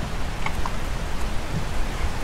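Steady rain in the survival video game 7 Days to Die, a continuous broadband hiss with scattered drop ticks, fairly loud and even, with no voices.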